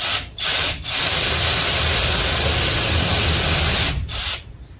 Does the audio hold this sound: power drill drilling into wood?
yes